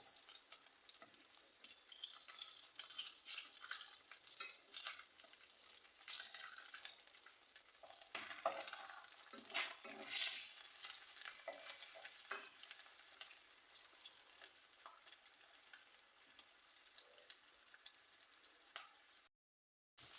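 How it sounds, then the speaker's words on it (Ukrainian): Pears sizzle and fry steadily in a hot pan, a continuous crackling hiss with occasional louder spatters, close by and without any talking. "смажу груші на двох сковорідках."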